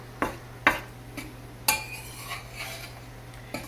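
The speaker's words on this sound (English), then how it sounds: "And then I will just mix that up a little bit." A utensil mixing biscuit dry ingredients and salt in a bowl, a few sharp, close clinks and scrapes spaced irregularly over a quiet hum, with no talking.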